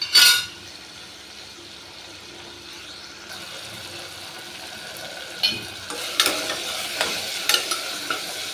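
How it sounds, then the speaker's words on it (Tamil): Onions and tomatoes sauté with asafoetida in a pan, a steady soft sizzle under a few clinks and scrapes of a stirring spoon, with a louder clatter at the start. "கொஞ்சம் வதங்கட்டும்."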